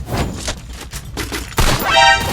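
Rapid gunfire from an M500 in the mobile battle-royale game Free Fire, a dense loud burst of shots with a sharper, heavier blast near the end.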